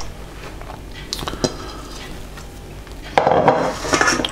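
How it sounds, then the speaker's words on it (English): Chopped onion for onion bhaji is tipped into a mixing bowl: scattered light clatters of utensil on bowl, then a fuller rustling tumble as the pieces land, close and moderately loud. "So we place all of the onion into the bowl."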